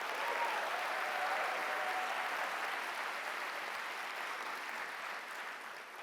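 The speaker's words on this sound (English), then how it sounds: "let's give another round of applause for all of those inspiring first set of demo" Audience at an Emerson Collective demo day applauds the first set of speakers, a sustained wash of clapping from a large crowd, fairly even and gradually easing toward the end.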